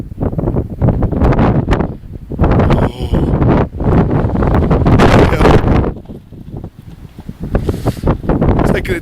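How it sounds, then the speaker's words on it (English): Strong gusts of night wind buffet the microphone in an open field beside a flapping tent, loud roaring bursts separated by brief lulls, with some speech in between. "It's a little bit windy."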